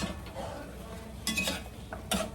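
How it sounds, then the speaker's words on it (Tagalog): Chicken in soup is stirred in a cooking pot, giving soft swishing with a few sharp utensil clinks and scrapes against the pot, up close. "mix muna natin yung chicken"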